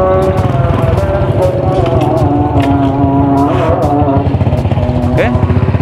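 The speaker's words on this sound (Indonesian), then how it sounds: "kita hidupin motornya" A Honda Supra motorbike runs loud and close after being started, its engine note rough and pulsing with repeated sharp clicks and knocks over the top. A voice talks beneath the engine noise.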